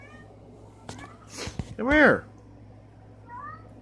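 A large house cat meows loudly once, a rising-and-falling close cry, followed by a softer faint mew, while someone speaks briefly beforehand.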